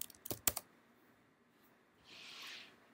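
Computer keyboard typing at a desk while entering a function name into a page init field in a SuiteScript setup: a few sharp, close clicks early on, then a softer hiss-like stretch, quiet overall.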